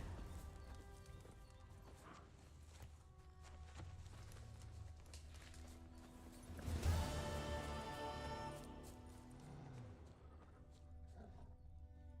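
Roach, the horse in The Witcher 3, gallops with steady clip-clop hoofbeats over a bed of game music and ambience, swelling louder midway with a brief whinny-like burst.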